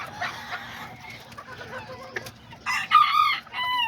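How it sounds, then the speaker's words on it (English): Serama and Azteca roosters and chickens sound close by, with a crow rising near the end over clucking and a low background hum. "I put her with that rooster right there"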